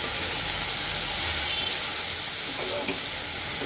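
Frozen sour curd dropped into spice masala sizzling hard in a pan, cooking for a spicy katla fish curry, giving a loud, steady frying hiss that fills the whole stretch.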